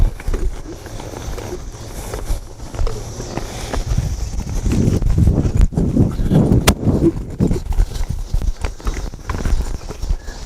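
Hoofbeats of a cutting horse working a cow in an arena, an irregular clip-clop of shifting, stopping steps, fairly close and steady throughout with faint background noise.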